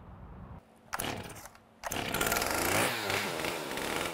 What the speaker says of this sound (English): This chainsaw is an unusual artistic tool